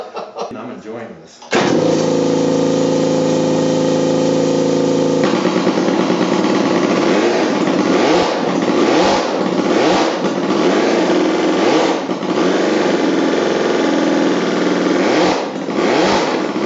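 A Rumi motorcycle engine with dual carburetors, one per cylinder, fires up after a brief quiet moment and then runs loud and close, with repeated revs rising and falling over a steady rasping idle.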